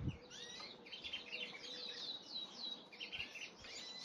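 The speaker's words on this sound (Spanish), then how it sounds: "Mis pajaritos." Small pet canaries chirp and tweet in quick high bursts, several calls overlapping continuously, fairly quiet over a soft background hiss.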